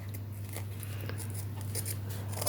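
Short scissor snips repeat at an uneven pace over a constant low hum, close and fairly quiet, with no voices.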